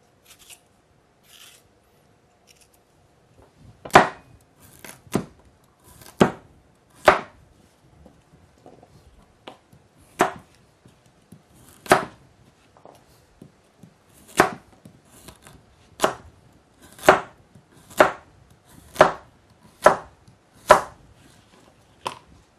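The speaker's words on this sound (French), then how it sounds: "on va éplucher et couper grossièrement l'ensemble" Carrots and potatoes being roughly chopped on a board for a carrot and coconut-milk soup, with sharp, close knife chops coming in an irregular series after a few faint scrapes at the start.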